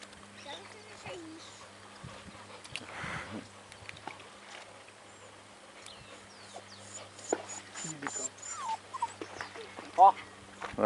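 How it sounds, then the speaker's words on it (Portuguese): Labrador retrievers splashing and playing in water outdoors, with scattered whimpers and small vocal sounds amid rustling and movement, while people talk nearby throughout. "São os cachorros pescadores, hein? É o lavrador."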